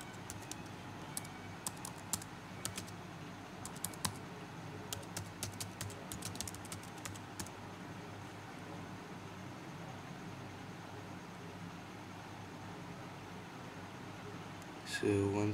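Faint, scattered keyboard keystrokes tapping during the first several seconds over a steady background hum, then the hum alone, with a louder sound at the very end.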